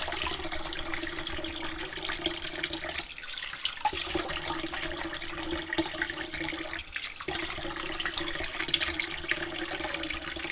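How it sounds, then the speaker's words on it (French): Cold tap water runs steadily into a sink as a man rinses his face after a wet shave, a continuous close splashing broken by two short pauses where the flow is interrupted. "je vais me rincer de suite à l'eau froide."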